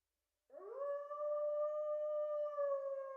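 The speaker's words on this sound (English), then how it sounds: "That's how the howling brings on a headache." A single long, steady howl from the video game Tsukihime rises in and holds for about three seconds, clear, loud and close, with no other sounds around it.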